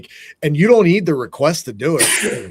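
A man's single sharp, breathy sneeze bursts out at the end, right after he finishes speaking in a casual conversation.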